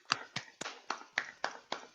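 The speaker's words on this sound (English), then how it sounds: "And a big applause as well." Hand claps at a morning meeting after a talk: seven sharp, evenly spaced claps, close and clear, with no voices over them.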